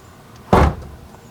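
A crooked door on a Honda Civic EG hatchback is moved in a garage build, giving a single loud thud or clunk midway through, short and close, with quiet room noise around it and no talking.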